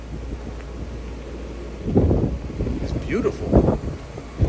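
Gusty outdoor wind buffets the microphone beneath an ominous sky, a steady low rumble that swells in stronger gusts while a person speaks over it.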